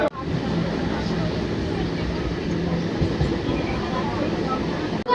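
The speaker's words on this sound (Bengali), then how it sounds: "ওই দিক থেকে একটা ট্রেন ক্রস করছে" A train passes at a crowded railway station on a rainy day, giving a steady, loud rumble and rattle that fills the whole stretch, with crowd chatter mixed underneath.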